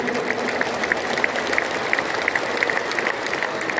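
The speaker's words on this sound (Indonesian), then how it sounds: "Coba tepuk tangan sekalian yang sungguh-sungguh." Audience applause at an Indonesian Golkar party gathering in Blora, a steady sustained patter of many hands clapping from a crowd, with a few sharper claps standing out.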